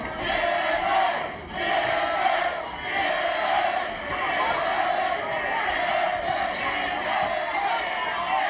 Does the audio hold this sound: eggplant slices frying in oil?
no